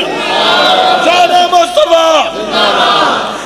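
Large crowd at a religious gathering shouting the takbir slogan in unison, a loud, sustained massed chant of voices that swells and repeats over several seconds.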